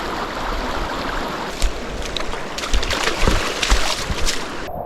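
River water flows and sloshes steadily around a small boat on a remote river among Huon pines, a close, continuous wash with occasional louder splashes and no voices.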